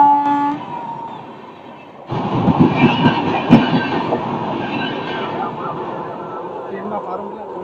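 A train passes on a railway line, loud and close, with a steady rumble and clattering wheels that swell sharply about two seconds in and then hold. A voice is heard before the train noise rises.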